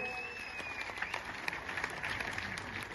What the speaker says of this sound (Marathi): संत माणूस भाई चंद्रकांत नाना लिंबाळकर यांच्यासाठी टाळ्या करा सर्वांनी